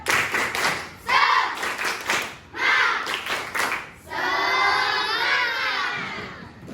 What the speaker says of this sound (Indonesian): Ya, kita tepuk semangat dulu. Tepuk semangat.